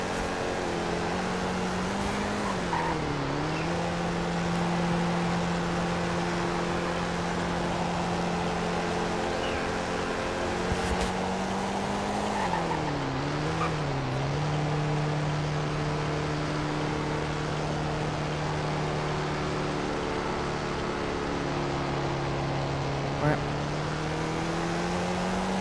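Car racing in a roleplay video game, a steady engine drone that rises and dips as the car shifts and accelerates, continuous and fairly loud with a voice talking over it.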